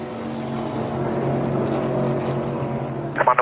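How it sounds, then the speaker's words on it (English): NASCAR Cup Series Next Gen race car roaring around the track at speed, a loud steady engine drone heard from a distance, with a brief burst of other noise at the end. "Car just comes around very fast."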